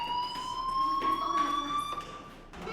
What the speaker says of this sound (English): do you hear that fire alarm? That means you should be outside.